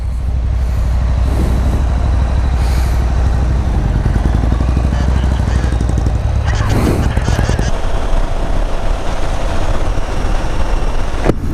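A 2015 Can-Am Spyder RT three-wheeler idles with a steady low rumble, then clicks into gear with a brief clunk and pulls away as the engine note rises, loud and close throughout.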